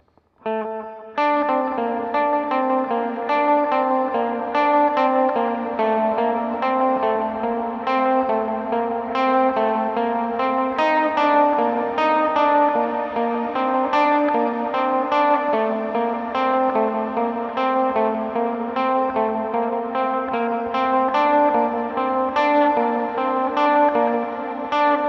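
Electric guitar playing arpeggiated triads through effects with echo, chorus and reverb, a continuous shimmering pattern of clear picked notes after a short pause at the start, no voices.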